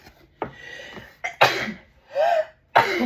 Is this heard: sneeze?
yes